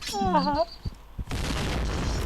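Gunfire crackles in a shooter video game, a burst of dense shots filling the last second after a voice calls out.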